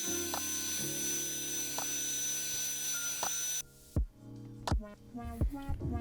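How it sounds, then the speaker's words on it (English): A hairdryer blowing hard on fresh paint on a fishing lure, a steady close whir with a high whine for several seconds that cuts off abruptly, followed by soft handling knocks. "So I'm going to hit it really good with the hairdryer"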